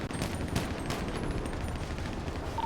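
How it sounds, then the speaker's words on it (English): Rapid bursts of gunfire ring out in a GTA RP police shootout at a red parking garage, with AK fire. Dense, loud volleys run continuously throughout with no gaps. "Oh! Shots fired."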